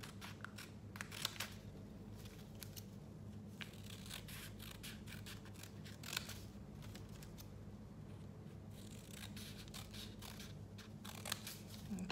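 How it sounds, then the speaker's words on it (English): Scissors snip through paper strips for a Chinese New Year paper lantern, giving quiet, close, irregular crisp cuts in short bursts, with rustling paper between them. "A few more strips to cut."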